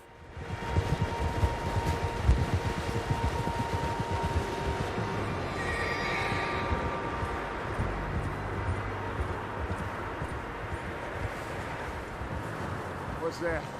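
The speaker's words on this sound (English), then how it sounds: "Horses, quite a few of them." Horses neigh and whinny in Red Dead Redemption 2, with hooves clopping beneath a steady ambient wash of the game's Wild West setting; a loud whinny stands out early, and voices talk during the scene.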